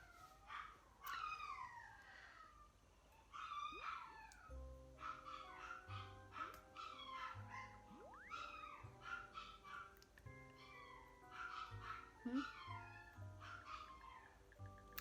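Dogs whimpering and yipping in a home, with several high, sliding whines and short yelps repeating throughout, fairly close and persistent over a low steady background.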